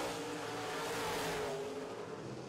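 Modified stock cars racing in a heat on an oval track, a continuous loud engine roar from a passing pack that swells and slowly fades, with no talk.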